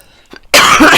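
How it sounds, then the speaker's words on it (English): A single loud, close cough bursts out after a faint throat sound, harsh and abrupt, while coloring along to a chibi girls drawing. "as soon as I get recording, I cough"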